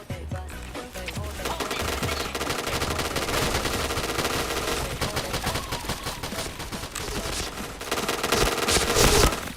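Continuous rapid automatic gunfire with dense bursts of shots from a shooting video game, loud and close throughout, building in intensity toward the end, with a faint voice now and then under the shots.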